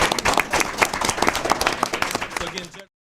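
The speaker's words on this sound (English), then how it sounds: "let's give them a round of applause" An audience at a cooking contest breaks into a short, dense round of applause that carries on for under three seconds before cutting off, with some voices mixed in.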